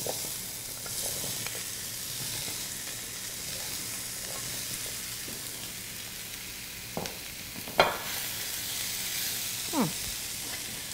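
Cubed butternut squash and red pepper sizzle in a pan, a steady hissing crackle close by, broken by a few sharp clinks and scrapes of stirring near the end.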